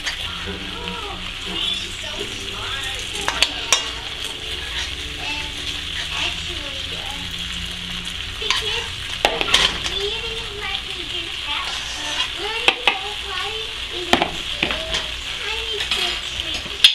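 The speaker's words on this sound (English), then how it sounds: "then we're gonna just add it back to the pan" Beef and broccoli fry in a pan with a steady sizzle and occasional stirring scrapes, while children's voices and chatter carry on nearby throughout.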